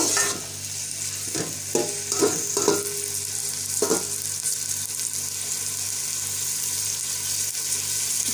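A large chopped onion fries in about three-quarters of a cup of hot ghee for Punjabi chicken yakhni pulao, with a steady close sizzle and a few scraping stirs early on.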